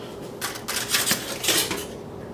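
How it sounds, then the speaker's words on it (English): Cooked bacon strips snapped in half by hand, giving a few brittle crackling breaks close by in a quiet kitchen, with no talking. "We're actually going to break the bacon in half."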